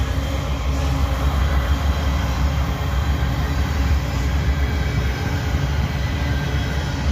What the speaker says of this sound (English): SCWS coal train